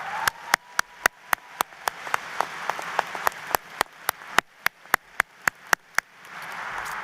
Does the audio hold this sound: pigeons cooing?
no